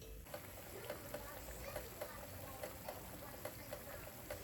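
Falafel frying in oil: a faint, steady sizzle with small regular clicks and taps, as if pieces are being turned in the pan, fairly quiet and with no talk.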